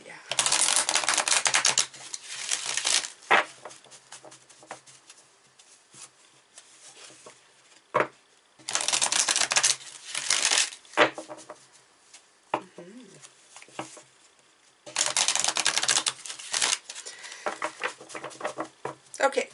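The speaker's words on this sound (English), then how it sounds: "so while I'm shuffling" Tarot cards shuffled by hand in repeated bursts of rapid riffling patter, each lasting a couple of seconds with quieter handling sounds between them, up close and fairly soft.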